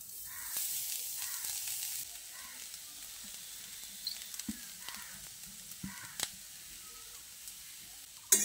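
Grated coconut stirred in a kadai over a gas flame, quiet sizzle and hiss with occasional scraping knocks of the spoon against the pan, faint and intermittent.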